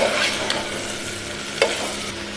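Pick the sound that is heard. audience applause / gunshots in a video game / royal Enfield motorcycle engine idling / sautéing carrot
sautéing carrot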